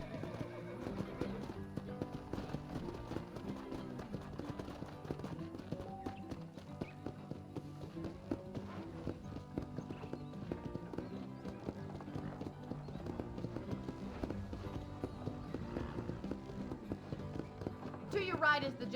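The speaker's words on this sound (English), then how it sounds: "let's see if you can still ride a horse" Horse hooves clip-clop at a riding pace in the Red Dead Redemption video game, steady and fairly quiet beneath continuous music and talking voices, with a whinny among the hoofbeats.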